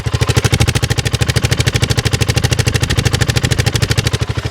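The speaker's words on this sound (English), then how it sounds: "Got quite a nice throaty sound." A BSA Gold Star motorcycle idles with the microphone held right at the exhaust, producing a loud, close, even throb of rapid pulses.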